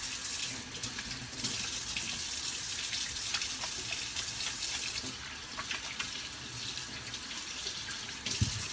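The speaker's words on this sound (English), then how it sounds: "I'm just going to wash my hands." Hands being washed under a running kitchen tap, a steady hiss of flowing water with small splashes and shifts, lasting throughout at moderate level, with no talk.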